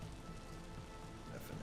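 Rain patters steadily in a Vintage Story survival game, a soft, faint continuous hiss of drops on surfaces throughout.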